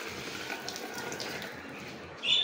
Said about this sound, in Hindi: अच्छा पहले नीचे वाली टूटी से थोड़ा थोड़ा सा पानी कर रहा है